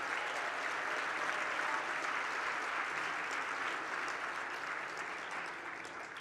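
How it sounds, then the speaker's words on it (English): A hall full of dinner guests at a Human Rights Campaign dinner in New York City applauds in steady, dense clapping heard from a distance, fading slightly toward the end. "Let's give him a round of applause."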